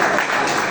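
A church congregation applauds during a Sunday service, a brief, steady wash of many hands clapping together at moderate loudness.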